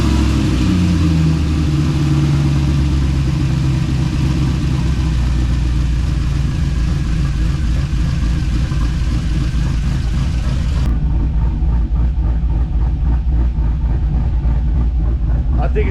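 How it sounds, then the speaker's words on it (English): A car's engine being tuned and prepped for a burnout contest idles loudly and close in a dense, uneven rumble that drops to a duller, muffled tone partway through, with people speaking over it. "I don't like how that was idling"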